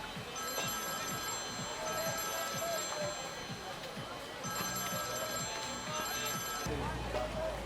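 A mobile phone rings in repeated electronic bursts, steady and fairly loud, in a scene from the soap EastEnders, with background chatter and noise underneath.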